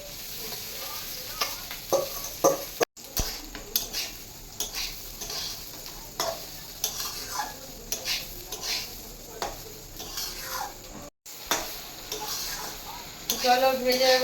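Pulao rice stirred and fried in a pot, a steady sizzle with repeated scraping strokes of a spoon across the base, close by, with a few brief spoken words over it.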